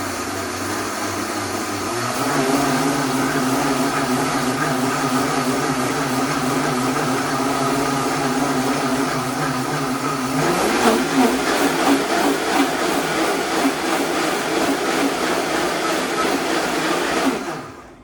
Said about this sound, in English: A high-speed blender is so handy to have.